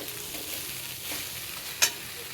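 A soybean mixture with curd, coriander, turmeric and green chilli stirred in a pan with little oil, sticking to the bottom: a soft sizzle with scraping and one sharp click of the utensil against the pan.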